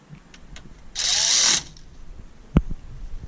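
A 10 millimeter wrench tightening a speed sensor wire on a 2009 Honda Accord wheel hub: one half-second burst of rapid ratcheting, then a single sharp metallic clank, close by.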